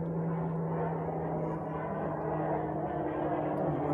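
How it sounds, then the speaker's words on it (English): An airplane passes overhead as a low, steady drone, continuous and fairly even throughout with no voices over it. "there's a plane going over"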